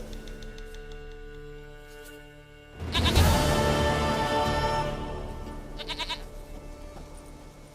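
A goat bleats in The Witcher 3 over a steady musical game soundtrack; after a quieter opening, a loud, wavering bleat bursts in near the middle, followed by shorter bleating calls later.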